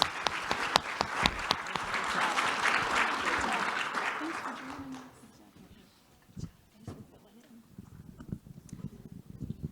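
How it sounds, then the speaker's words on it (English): An audience applauds a panel at an event, with dense clapping for about five seconds that then thins out to scattered claps and a voice speaking near the end. "Let's give this panel a nice round of applause"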